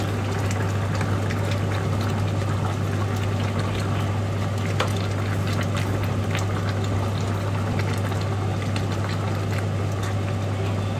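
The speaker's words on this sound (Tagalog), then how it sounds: "Haluin natin." Lechon paksiw boiling in a pot gives a continuous bubbling, seething liquid sound with scattered small clinks and splashes as it is stirred, over a steady low hum throughout.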